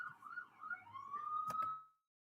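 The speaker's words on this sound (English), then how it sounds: "I muted it because of the sirens." A faint, distant wailing siren rises and holds its pitch, with a brief knock partway through, then the sound cuts out.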